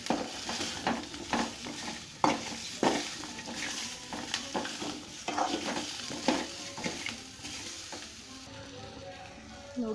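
Onions frying in a pan for vegetable kurma, stirred over medium heat with tomato added: a steady close sizzle broken by repeated scraping stirs at a loose, irregular rhythm, with no talking.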